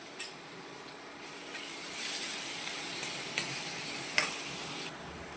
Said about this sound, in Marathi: कढीपत्ता व केलेलं वाटण घालून घ्यायचं आहे व 1 मिनिटासाठी परतून घेणार आहोत